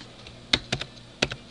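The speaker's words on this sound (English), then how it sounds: "You can do that by holding down your control key and hitting the plus sign on your keyboard." Computer keyboard keys pressed to zoom in while cropping photos, a few crisp clicks close by: one tap, a quick pair, then two more, each short and distinct over a quiet background.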